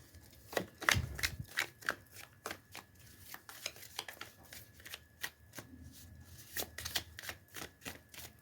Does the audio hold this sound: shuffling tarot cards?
yes